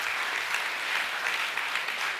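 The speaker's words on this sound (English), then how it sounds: "You can clap them again." An audience at a school academic assembly claps in a dense, even wash of applause that holds steady and fairly loud for a couple of seconds, with no talking over it.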